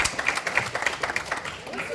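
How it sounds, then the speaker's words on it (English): Crowd at a youth forum gives a brief round of applause, with dense, steady clapping throughout the short burst. "Let's have another round of applause for Shivam,"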